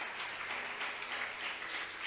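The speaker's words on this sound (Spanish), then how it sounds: "Alguien le aplaude a Dios por eso." A church congregation claps through a sustained, even wash of applause at moderate distance, with no single claps standing out.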